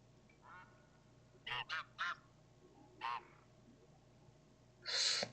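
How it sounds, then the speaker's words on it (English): Tundra bean geese honk in theHunter: Call of the Wild on Revontuli Coast, a few short nasal calls in quick succession followed by a louder honk, set against a quiet outdoor hum. "Alright, I got some tundra bean geese coming in."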